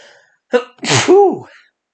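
A single loud, close human sneeze: a short sharp intake and then an explosive burst that trails off into a brief vocal tail, with silence on either side.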